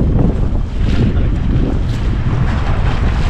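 Strong wind roars and buffets the microphone aboard a small boat on rough open sea, a loud, continuous gusting rush with a low rumble of water and waves beneath.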